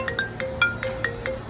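A mobile phone ringtone plays nearby, a bright chiming melody of quick repeated notes at a steady moderate level, with no talk over it.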